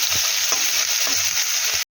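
Onion and cumin fry in hot oil in a pan, giving a steady, close sizzle broken by a few soft stirring scrapes, with no voices.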